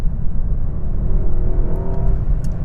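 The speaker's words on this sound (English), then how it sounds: "So I'm going to floor it now." A Mercedes-AMG S63 accelerates at full throttle in seventh gear, a loud, deep, sustained engine roar with a faint rising whine, heard from inside the car without speech.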